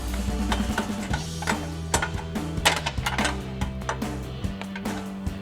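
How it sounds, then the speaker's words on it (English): A 16mm wrench tightens the nuts on the overrider hoop of a Rugged Ridge Arcus front bumper on a Jeep Wrangler JL. Close, irregular metallic clicks and taps sound over a low steady hum. "Now we can tighten down the two nuts on our overrider hoop."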